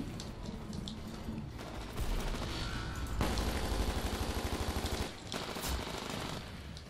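Rapid bursts of automatic gunfire in Titanfall in quick rattling runs, with sharper single shots mixed in, heard over a steady background hum.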